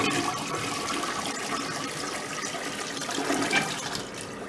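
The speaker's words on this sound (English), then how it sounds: "what you simply do now is just flush it away" A toilet flushes in one continuous rushing gush of water that swells near the end and then eases into trickling as the bowl refills, close by and with no talking.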